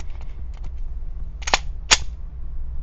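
Glock 17 pistol slide racked by hand, with two sharp metallic clacks about half a second apart after a few lighter clicks, heard close and clear with no talk.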